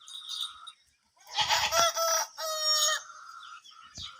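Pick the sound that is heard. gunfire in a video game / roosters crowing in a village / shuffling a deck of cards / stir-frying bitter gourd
roosters crowing in a village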